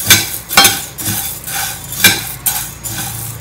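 Coriander seeds roasting in a pan are stirred with a spoon, producing a handful of sharp scraping clinks at an uneven pace over a light sizzle, close and alone.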